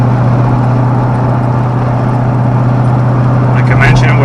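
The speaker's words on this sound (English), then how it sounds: "This beautiful V8 engine sound." A 2012 Chevrolet Corvette Grand Sport's naturally aspirated V8 with manual transmission, a loud steady low idle drone filling the car interior, with a voice speaking over it.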